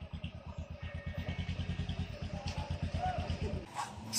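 Motorcycle engine idling close by, a steady rapid thumping pulse that slows and settles, ending with a brief louder rev, with someone speaking over it.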